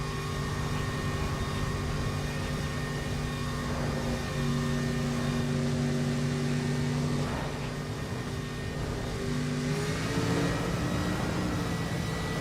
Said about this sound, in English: It is the same engine, so it should have that glorious supercharger sound.